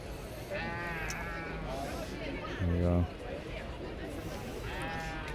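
Dutch Spotted sheep at a livestock show, several ewes bleating loudly in turn, one close, harsh and wavering call standing out, over a steady crowd murmur and people talking.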